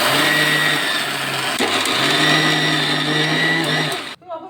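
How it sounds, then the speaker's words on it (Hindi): A mixer grinder grinds sesame seeds finely for laddoos, a loud steady high-pitched motor whine close by that runs for several seconds before cutting off abruptly. "अब हम तिल को ग्राइंड करेंगे और हमें बिल्कुल बारीक ग्राइंड करना है।"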